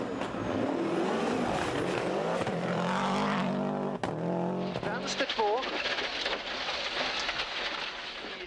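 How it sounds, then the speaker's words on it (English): Rally cars, a Subaru and a Ford Escort, racing in the 1996 World Rally Championship: engines rev and roar past with rising and falling pitch and tire noise, while someone talks over them. "Liati in the Subaru and Sainz in the Ford Escort were 2 of the drivers chasing 3rd place, together with the Subaru of Kenneth Eriksso"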